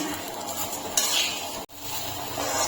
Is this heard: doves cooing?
no